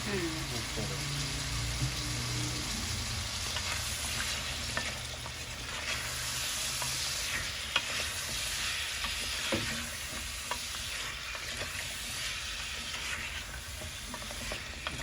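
Pangas fish with radish and radish greens fries in a pan, a steady close sizzle under repeated scraping stirs that runs unbroken throughout.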